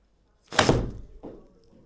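A golf club strikes a ball into an indoor simulator screen, a single sharp thump followed by a softer secondary knock as the ball hits the screen, in an otherwise quiet room.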